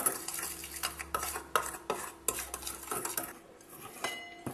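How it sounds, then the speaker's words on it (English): A utensil scrapes and clinks against a bowl while salt and pepper are stirred together for pfeffernusse cookies, close, with repeated irregular strokes and knocks. "Now I'm mixing the salt and pepper."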